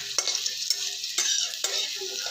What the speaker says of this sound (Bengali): আলুগুলো আরেকটা পিঠ একটু ভাজা হোক।